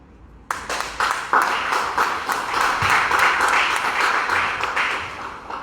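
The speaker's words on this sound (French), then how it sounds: "Il faut d'abord les applaudir" Applause from an audience at a Gabonese women's fair event, a dense, steady clapping that swells in quickly after a brief quiet start and holds at full strength before tapering slightly, with scattered sharper claps standing out.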